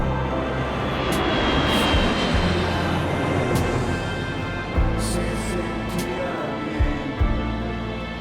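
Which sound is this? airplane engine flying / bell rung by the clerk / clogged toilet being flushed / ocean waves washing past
airplane engine flying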